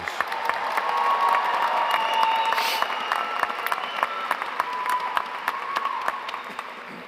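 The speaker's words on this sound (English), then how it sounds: "Let's give our graduates another round of applause, please." A graduation ceremony audience gives the 2025 graduating class of an online school a sustained round of applause, dense steady clapping from a large crowd lasting about seven seconds with no talk over it.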